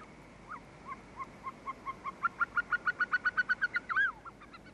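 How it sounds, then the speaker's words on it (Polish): Caucasian snowcocks call from rocky mountain slopes, a series of rising, evenly spaced whistled notes that speed up and climb into a louder final flourish, heard at moderate distance over steady wind-like background noise. "to głosy ułarów kaukaskich z rodziny kurowatych"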